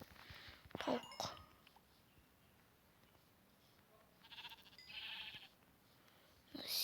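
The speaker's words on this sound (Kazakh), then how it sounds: "Мына қойды да өлтірейік." A sheep in the Minecraft video game bleats in a few short, quiet calls separated by near silence.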